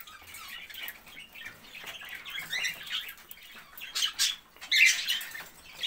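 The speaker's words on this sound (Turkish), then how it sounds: "Kuşlarımız şu an yiyorlar." Pet birds eating red beets give off scratchy squawks and chirps in uneven bursts, close and moderately loud, with no voices.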